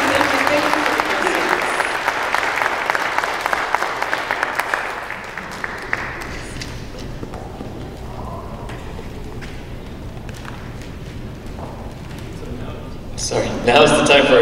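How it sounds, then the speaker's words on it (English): A church congregation gives a children's choir a loud round of applause that lasts about six seconds, then fades into quieter room noise and murmuring, with a brief burst of sound near the end. "please, a big applause to these kids"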